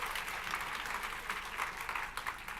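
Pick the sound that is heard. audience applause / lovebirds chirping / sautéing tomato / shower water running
audience applause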